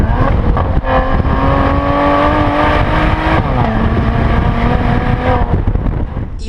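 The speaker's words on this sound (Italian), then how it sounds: "basta dare giù di gas per spingere la lancetta del contagiri subito oltre i 6500 giri" Maserati Levante S with a 3.0 V6 of 430 hp and 8-speed ZF gearbox, heard from inside as the engine pulls hard, rising steadily in pitch, easing off briefly as it shifts, then climbing again, loud and continuous.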